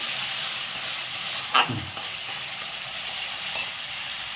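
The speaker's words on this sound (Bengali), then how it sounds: "আবার লবণটাকে একটু নাড়িয়ে নিলাম।" Masala with salt being stirred in a pan for yogurt cauliflower: a steady low sizzle with a single brief scrape of the spoon, plus a faint second stroke near the end.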